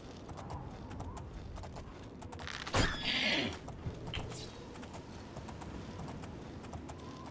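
A horse whinnies once, briefly and fairly loud, amid a steady rustling background with faint clopping hooves, in the video game Oblivion.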